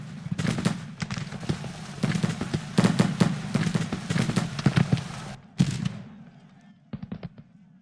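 Rapid, irregular volleys of artillery and gunfire crackle through a video game battle, loud close bursts overlapping in dense clusters, then a brief lull before a few final sharp cracks.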